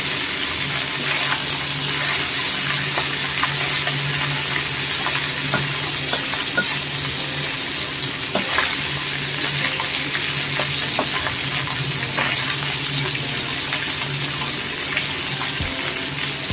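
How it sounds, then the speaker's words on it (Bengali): Tengra fish frying in a pan of hot oil, giving a steady, dense sizzle that runs unbroken and fairly loud throughout, with no voices. "মাছগুলো খুব বেশি কড়া করে ভাজতে হবে না"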